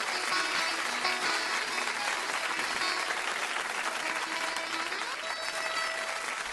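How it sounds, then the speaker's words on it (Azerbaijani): An audience applauds poets at a saz and poetry evening, a dense, steady clapping that holds at even loudness throughout with no voices over it. "Alqışlar gəlsin dəyərli şairlərimizə, Xəqani Qayıqlı və İbrahim İlyaslıya."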